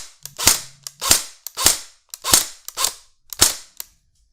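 A G&G MP5 blowback airsoft electric gun fires six sharp, snappy shots in semi-auto, one at a time at a steady pace, each a crisp crack with a short decay.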